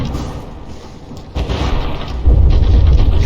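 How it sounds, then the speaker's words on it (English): Battleship fight in the game From the Depths, with deep booming explosions and gunfire that grow louder in stages, heavy rumbling blasts layered continuously. "the stern just got blown off, leaving those propellers exposed"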